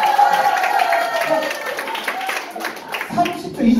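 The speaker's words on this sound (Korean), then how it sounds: "박수" A team of participants clapping together at a recreation instructor training session, a steady dense patter of hands under a voice talking throughout.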